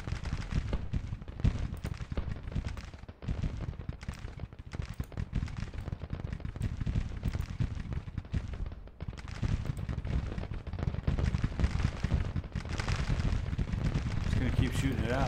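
Massed musket and cannon fire from a Civil War battle in Grand Tactician: The Civil War, with continuous crackling volleys and deep booms rolling underneath and a voice speaking over the din.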